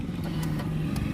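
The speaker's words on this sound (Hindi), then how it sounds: "एक बार मैं गाड़ी को स्टार्ट कर देता हूँ।" A Hyundai Elantra with a CNG setup idles just after starting, its engine giving a close, steady, even hum for a brief moment.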